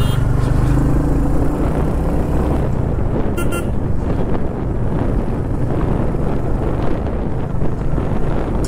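Royal Enfield Hunter 350 motorcycle riding at around 40 speed, steady engine and road noise heavily buffeted by constant wind rumble across the mic, loud and continuous throughout.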